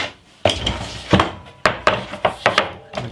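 A bass guitar body is clamped into a wooden planing fixture: a series of sharp, close knocks and thunks of wood and metal, irregularly spaced, some in quick pairs, loud with no talking.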